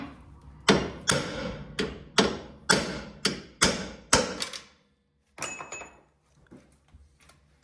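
A series of sharp, ringing hammer blows on metal in a steady rhythm, about a dozen strikes, then a pause and a few lighter clinks, during a front wheel bearing replacement on a VW Golf Mk1.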